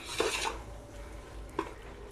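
Chicken with biryani masala is stirred in a heavy pot, bringing a couple of scraping clinks of a utensil against the metal over a faint steady sizzle.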